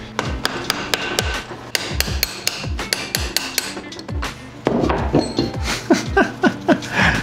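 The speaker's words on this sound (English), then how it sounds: "we're gonna get creative and use an impact to get this bolt off" Repeated sharp metallic impacts in quick bursts, an impact wrench hammering at the front sprocket bolt of a YZ250 two-stroke dirt bike, loud and close, with a brief pause before a denser, busier final run of hits.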